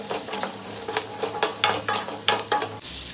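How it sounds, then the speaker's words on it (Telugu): Ghee sizzles with onions in a pan while a spoon stirs, producing a loud, close frying hiss broken by regular scraping strokes, with no voices. "అలాగే ఇందులో ఇప్పుడు కొంచెం నెయ్యి వేస్తున్నాను."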